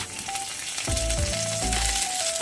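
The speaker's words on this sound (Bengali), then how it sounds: "এরপরে আমি এই আদার কুচিটা দিয়ে দিচ্ছি" Chopped ginger added to a hot kadai with garlic and mutton mince sets off a close, steady sizzle, with bursts of rattling as the pan is stirred and a faint tone underneath.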